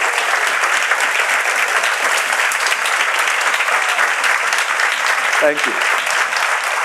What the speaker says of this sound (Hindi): आइए प्रभु के लिए अच्छी ताली बजाएंगे मिलके